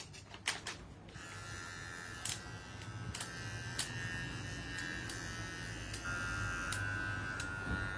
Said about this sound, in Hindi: कैट्स के और डॉग्स के बाल काटने के लिए यूज होने वाला प्रोफेशनल पेट ट्रिमर।